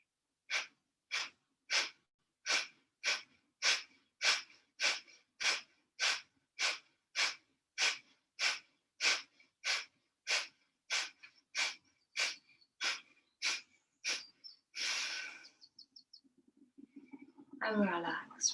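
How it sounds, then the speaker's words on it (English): Deep breathing exercise during a relaxation session: a long run of about twenty-two evenly spaced, short audible breaths, close and clear, then a longer exhale and some rustling at the end, with no talking. "So again, 1 breath in,"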